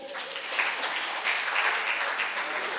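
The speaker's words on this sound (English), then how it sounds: "And clap for yourselves" An audience of farmers at a fish-farming business session claps for themselves, steady continuous clapping filling the whole stretch, fairly close, with no one talking.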